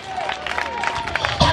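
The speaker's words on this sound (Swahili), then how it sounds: "Pigia Yesu makofi ya shangwe." Church congregation clapping for Jesus, a short burst of crowd applause and cheering with voices and babble mixed in, fairly close and rising toward the end.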